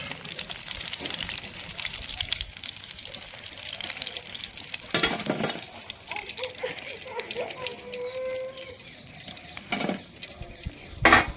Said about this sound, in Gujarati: આ રીતે આપણે બધા વડા છે એ તળી લેશું